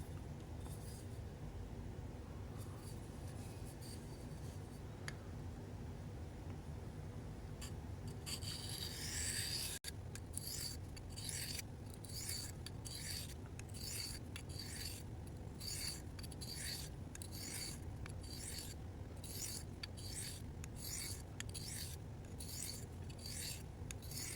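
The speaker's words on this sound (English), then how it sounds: "So this is a 100 grit diamond stone, and then I have a 240 side." A blade is sharpened on a 100/240 grit diamond stone, starting with soft faint rubbing and then turning into a steady run of crisp, rhythmic back-and-forth rasping strokes, close and alone.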